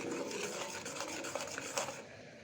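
Ginger-garlic paste and spices are stir-fried with meat for haleem, a soft low rubbing and scraping of a utensil against the pan with a faint sizzle, quiet and steady.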